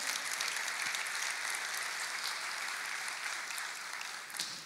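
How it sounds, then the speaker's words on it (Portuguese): A church congregation claps together in a steady, dense wash of applause that carries on unbroken, heard from a middle distance and fairly faint. "Vamos aplaudir ao Senhor?"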